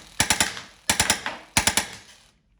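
A Drozd BB pistol fires three quick three-shot bursts, each a rapid mechanical rattle of sharp close cracks, with brief pauses between bursts.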